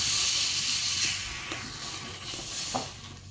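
A steady broadband hiss of hot oil sizzling as gram flour is tempered, loudest at the start and easing slightly, with a few faint clicks and pops, no talking.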